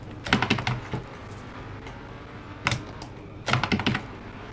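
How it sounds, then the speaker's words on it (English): Keys clatter on a computer keyboard in short quick bursts separated by pauses, close and fairly quiet, with game sound faint underneath. "I can't control it with the keyboard"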